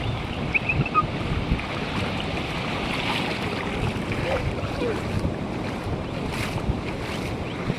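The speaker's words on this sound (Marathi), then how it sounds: "इकडे खूप जोराने लाटा येत आहेत बघा" Strong sea waves roll in at Chinchani beach, a continuous loud wash of surf mixed with wind buffeting the microphone.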